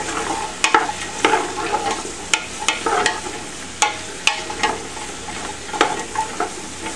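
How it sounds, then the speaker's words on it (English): Onions and celery sauté in olive oil for a Peruvian-style kaniwa, quinoa and amaranth pilaf, giving a steady close sizzle broken by sharp scrapes and clicks of a spoon stirring the pan. "we're going to let this cook until the onions start to get translucent"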